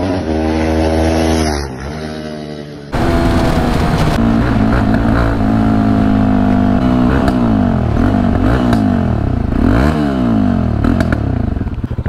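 Bajaj Dominar 400 motorcycle with an aftermarket exhaust, revved loudly and repeatedly at close range with rising and falling engine pitch and sharp crackling backfire pops, no talking.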